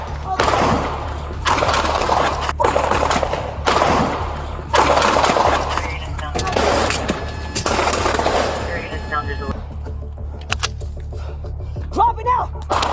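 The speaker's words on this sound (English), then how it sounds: "Shots fired! Shots fired!" Gunshots ring out in repeated loud, sharp bursts during a police confrontation, several volleys in quick succession with shouting voices around them, ending in a quieter stretch.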